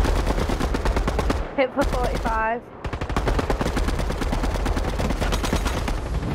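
Submachine gun fire in Fortnite, a fast, loud burst that runs almost continuously, broken by a short gap in which a voice speaks briefly.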